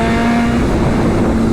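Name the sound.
BMW M 1000 RR motorcycle with titanium exhaust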